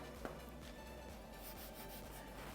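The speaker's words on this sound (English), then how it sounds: "I just take the rag and just gently, very gently just rub" A rag gently rubbed over wood trim, wiping dried nail hole filler off the surface: a soft, steady, low rubbing texture running continuously and quietly throughout, close by, with no talking.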